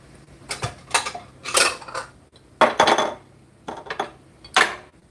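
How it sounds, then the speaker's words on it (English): Produce being dropped into a bowl for washing, with dishes and utensils clattering and clinking in a series of sharp, close bursts separated by short pauses. "I need to put those in a bowl and wash them thoroughly"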